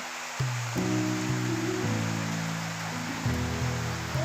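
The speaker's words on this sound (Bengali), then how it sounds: "সকালে উঠেই দেখি এমন বৃষ্টি পড়ছে।" Steady hiss of rain falling, with sustained musical tones playing over it throughout.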